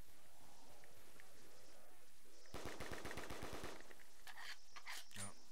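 A pistol fires at enemies in a video game, heard as a quick burst of rapid shots in the middle, followed by a few scattered sharper cracks, all fairly faint against a quiet background.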